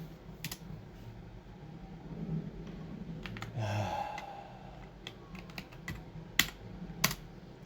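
Fingers tap away on a computer keyboard in short, irregular bursts of faint, close clicks. A few breaths and a low background hum sit underneath.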